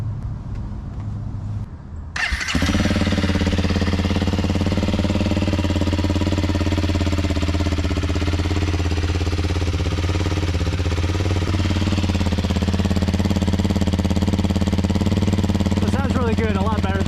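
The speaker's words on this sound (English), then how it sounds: "let me give you guys a quick sound check of the exhaust over here." A 2022 Toyota Tundra with an aftermarket exhaust idles close by in a deep, steady, throaty rumble that comes in loudly after a brief moment of quieter background noise.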